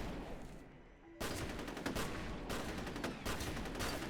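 Video game gunfire in FEAR: a dense, continuous burst of loud shots erupts suddenly after a quieter moment and keeps rattling steadily for several seconds.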